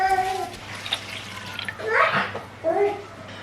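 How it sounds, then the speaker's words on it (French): About 70 centilitres of water poured into a cooking pot, a rushing splash that swells and fades, with voices, including a child's, heard around it. "je vais rajouter environ 70 centilitres d'eau"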